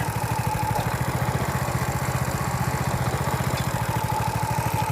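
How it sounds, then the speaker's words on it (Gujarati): A homemade mini tractor built around a motorcycle engine idles slowly on a farm, its steady low thumping pulse continuing evenly and fairly close, with no talk over it. "એકદમ સ્લો એન્જિનમાં ચાલે છે"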